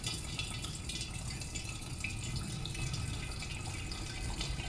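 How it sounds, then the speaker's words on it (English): Homemade nettle wine is poured slowly and evenly into a demijohn, giving a continuous, even stream of liquid that runs unbroken from start to finish. "what we're trying to do is pour in one motion all the clear liquid off the sediment"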